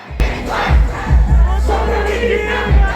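A loud crowd roars and cheers at a Pinoy hip-hop concert performance on a Canada tour, a continuous dense wall of voices with rising surges, close and full.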